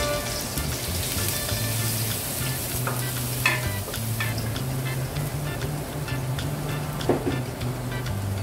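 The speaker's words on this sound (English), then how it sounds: "meron pa tayong nalulutong fish" Fish sizzles steadily in a hot pan while being cooked for sweet and sour fish, with occasional stirring scrapes and soft pops. The sound is close and continuous, and no one speaks.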